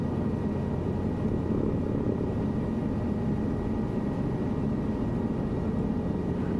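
A helicopter lifting off in Microsoft Flight Simulator 2024, a steady, loud, droning engine and rotor hum that holds even throughout with no talking.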